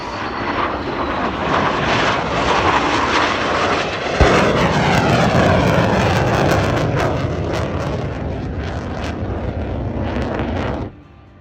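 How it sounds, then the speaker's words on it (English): Rolls-Royce Merlin-engined warbird flying past at an air show, a loud continuous roaring drone that swells and holds for about ten seconds before cutting off abruptly, with no talk. "Listen to that Merlin!"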